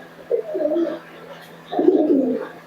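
Two Giribaj pigeons of the Murshidabad desi type give two clear rolling coos, close and moderately loud, separated by a short quiet gap over a faint steady hum.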